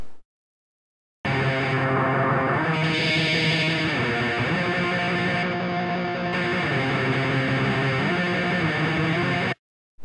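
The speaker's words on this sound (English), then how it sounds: "the distortion isn't too bad, but it only has the drive and tone buttons" An electric guitar played through a freeware distortion plugin with only drive and tone controls, a sustained distorted riff with chords and notes ringing for several seconds between short silences at start and end.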